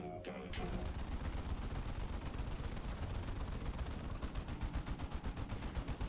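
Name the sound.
gunfire from units in the video game Dawn of War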